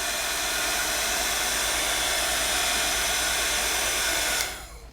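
A heat embossing tool melts embossing powder on a papercraft stencil layer, blowing as a loud, steady, close roar that cuts off abruptly near the end.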